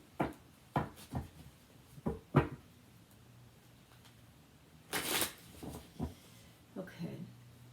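Oracle cards from the Wisdom of the Oracle deck shuffled for a tarot reading, giving several soft riffling and tapping bursts, one longer rustling flurry midway, heard close and fairly quiet with no talking.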